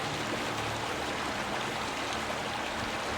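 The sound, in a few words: river stream flowing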